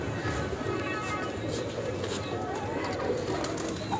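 Pigeons cooing on a rooftop loft in Multan, a dense, continuous murmur of soft coos from many birds close by, with people talking over it.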